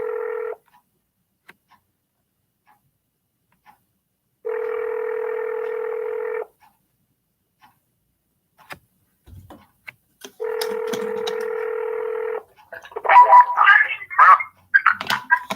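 Telephone tones on a cold call to a property owner, three steady electronic ringback bursts with silent gaps between them, followed by quick clicks and a short run of dialing beeps at the end.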